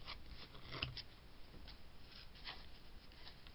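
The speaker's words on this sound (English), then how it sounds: "Both sides we're going to cut off the excess" Scissors trim excess paper from the edges of a handmade stencilled card, with soft close snips and rustling paper handling, a few sharper cuts standing out.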